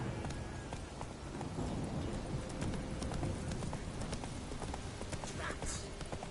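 Geralt's horse Roach from The Witcher 3 clip-clops with steady hoofbeats through a dense, continuous bed of rain-like ambience, a voice briefly present over the game sound.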